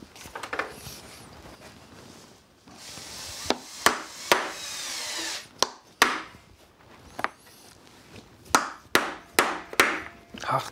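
Holes cut in hard leather for a saddle, sharp knocking strikes and scraping cuts in an irregular run, close and fairly loud, sparse quiet stretches between bursts.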